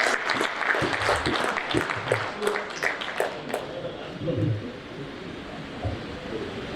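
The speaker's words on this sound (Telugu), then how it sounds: "Big round of applause." An audience at a Lions Club of Hyderabad charter presentation applauds in a dense burst of clapping that gradually thins and fades toward the end, with a little murmur underneath.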